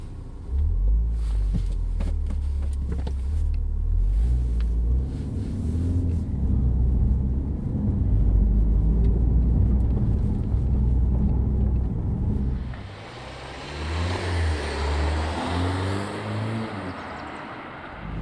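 Mini Countryman SUV in its sporty drive setting, its engine a steady low rumble that builds with road and tyre noise, then eases and surges again near the end as the car accelerates.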